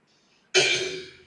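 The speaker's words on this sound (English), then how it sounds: "that's me coughing." A single sharp cough bursts out close by after near silence, then fades quickly.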